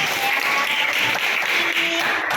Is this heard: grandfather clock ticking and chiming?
no